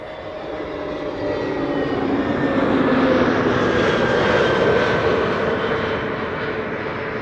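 A four-year-old airliner, first flown in September 2020, arrives at Amsterdam Schiphol Airport on a sunny day, its engine roar swelling and holding loud and steady before easing slightly, broad and close.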